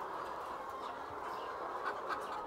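Chickens cluck inside a poultry facility, a dense, faint, continuous murmur of many birds under a steady background hum.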